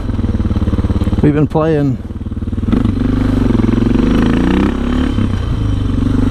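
A motorcycle engine drones steadily while the bike is ridden, loud and continuous, with a short spoken phrase near the start.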